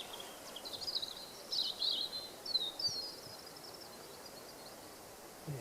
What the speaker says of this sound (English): it's the only bird singing, isn't it? Just tinkling away.